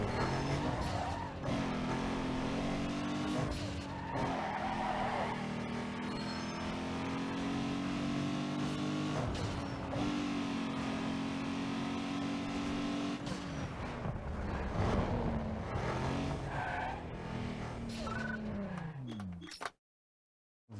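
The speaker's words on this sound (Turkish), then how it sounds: "Şurada bir Drift var. Gidelim Drift yapalım." A game car drifts in Need for Speed Underground 2, its engine droning loud and steady with shifting pitch and tire screeches across the run, cutting out abruptly at the end.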